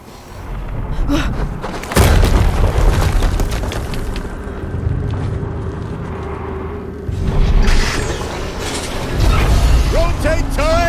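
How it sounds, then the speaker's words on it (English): More explosions in the video game Horizon Zero Dawn Remastered, loud low booms layered with clanking mechanical machinery noise and ratcheting metal, rumbling continuously with a spoken voice partly under it. "Another explosion."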